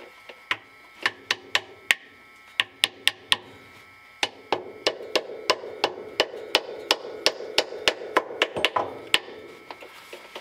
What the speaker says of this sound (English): Just gonna work my way around with this hammer, and then that should be in.